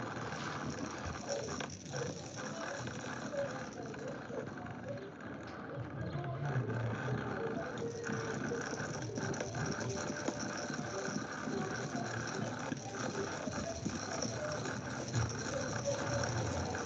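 A bead spinner whirs steadily as it spins beads for a charm craft, a continuous mechanical rattle and hum at moderate level lasting throughout, with a voice faintly present.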